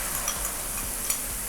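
Mixed sauce poured into a hot pan over lowered heat, hissing and sizzling steadily with a faint stirring scrape, close and alone.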